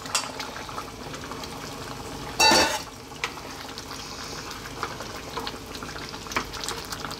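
Chicken added to simmering curry sauce in a pan, a soft bubbling sizzle with a brief louder burst of spattering about midway.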